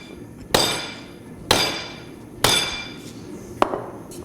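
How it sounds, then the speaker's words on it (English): An 8-pound sledgehammer strikes a heat-treated steel blade four times at roughly one-second intervals, each blow a sharp, ringing metallic crack with a short decay, the last one lighter. "8-pound sledge."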